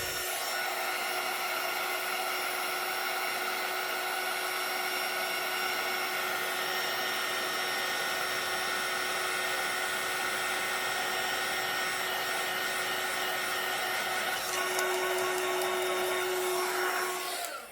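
Heat tool blowing hot air over embossing powder on a birthday card, a loud continuous whirring fan drone with a steady high whine that holds unbroken for the whole stretch, close to the ear.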